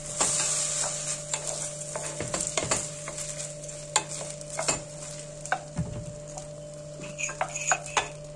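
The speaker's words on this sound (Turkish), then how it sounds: "Şimdi pirinçleri iyice kavuruyorum." Washed, drained rice being stir-fried in hot oil in a pan for chicken pilaf: a steady sizzle under repeated scraping and clinking of a spoon against the pan, close and moderately loud, with no speech.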